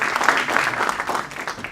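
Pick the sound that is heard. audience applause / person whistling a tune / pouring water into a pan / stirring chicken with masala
audience applause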